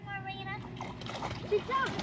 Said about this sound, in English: Good job splashing.